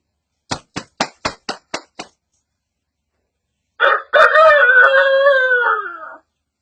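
A man imitates roosters crowing at dawn: six quick, sharp clicks in a row, a short pause, then one long, drawn-out crow-like call.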